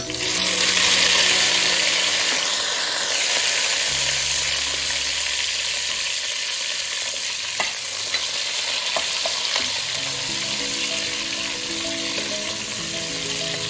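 Tomatoes sautéing in hot oil for a Tamil fish curry, a loud, steady close-up sizzle that continues without a break, with occasional faint stirring knocks and no talking.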